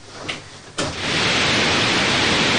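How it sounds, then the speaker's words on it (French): White noise played through headphones: a quiet hiss at first, then a sudden jump to a loud, steady broadband rush that continues without change. "des écouteurs diffusant ce qu'on appelle un bruit blanc"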